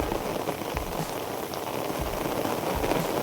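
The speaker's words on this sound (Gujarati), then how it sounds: "અને વરસાદ પણ સારો ચાલુ થઈ ગયો છે, જોઈ શકો દોસ્તો." Steady, dense monsoon rain patters onto a surface in Palitana, Bhavnagar, a continuous hiss of drops with no voices, holding an even level throughout.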